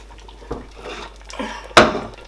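A pot of ogbono soup comes off the stove with a few close metallic knocks and scrapes, ending in one sharp clank followed by quieter handling.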